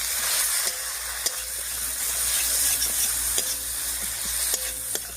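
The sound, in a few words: mixing ginger, cumin, chilli pastes and turmeric in pan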